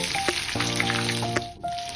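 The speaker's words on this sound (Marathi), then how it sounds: "फ्राय करून घेऊया। जरा ब्राऊन होईपर्यंत फ्राय करायचे।" Soybean nuggets fry in hot oil until browned, with a close, loud, steady sizzle and bubbling, interrupted by a couple of sharp clicks and brief scraping sounds.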